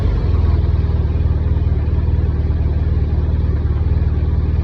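A BMW R1200R LC motorcycle engine idling steadily, with a loud, close, even low-pitched throb that stays constant without revving, and no voices.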